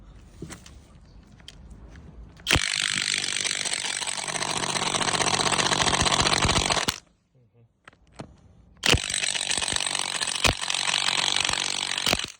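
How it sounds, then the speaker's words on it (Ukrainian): A Dnipro M DTW-202BC Ultra cordless impact wrench runs in two long, loud, steady mechanical bursts separated by a short pause, with fainter handling noise before them. "Ось ще гвинтоверт від Дніпром. Теж доволі гарний і потужний."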